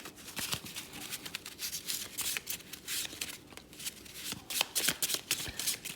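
A tarot card deck shuffled by hand at close range, with quick papery riffles and slaps in uneven bursts, fairly quiet, with no talk.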